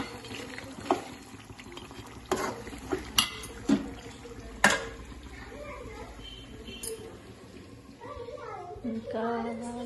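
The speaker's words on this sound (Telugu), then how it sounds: "వేడివేడిగా చికెన్ కర్రీ అయితే ఉడుకుతుంది" Chicken curry boiling hot in a pot, with a soft continuous bubbling bed broken by a few sharp clinks and knocks, while a person talks over it.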